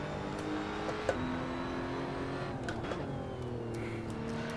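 A Maserati GT4 race car in Assetto Corsa Competizione, lapping Indianapolis, holds a steady engine drone with a quick throttle blip on a downshift near the start and another later, no voices over it.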